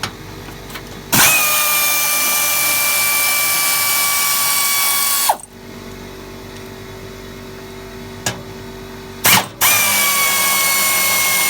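A power drill removes 10 mm bolts on a 2016 Toyota 4Runner during an oil change, running in two long loud whirring bursts, close and steady, with brief pauses and clicks between and no talk.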